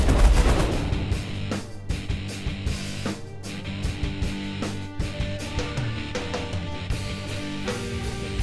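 Missile launches and impacts in The Last Federation space strategy game, a loud run of repeated percussive bursts at irregular intervals over a steady tonal backdrop, with no voices.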